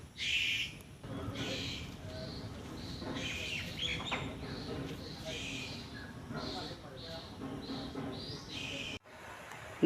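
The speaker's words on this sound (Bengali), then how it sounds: "পাখির কলরব" Birds chirp in repeated short calls throughout at Jinda Park near Dhaka, under a steady outdoor hum and some distant voices.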